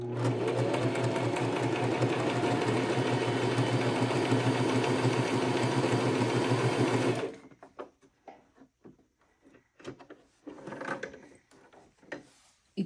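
An old stitching machine sewing ordinary cloth, running as a loud steady close whir for about seven seconds, then stopping, followed by scattered handling knocks and clicks.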